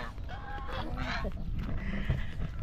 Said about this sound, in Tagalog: Tuwang-tuwa yung mga itik, oh.